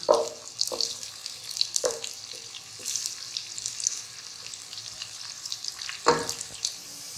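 Onions frying in a pan for Qaboli rice, crackling and sizzling steadily with a few sharp utensil scrapes and clicks of stirring, close and moderately loud with no talking.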